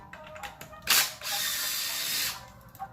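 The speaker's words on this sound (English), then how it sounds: "so we're gonna take the screws out" Ratcheting clicks come from a hand tool backing out clutch cover screws on a Suzuki GSX-R 1000 motorcycle. Close, quick rattling bursts are separated by short pauses, with no talking.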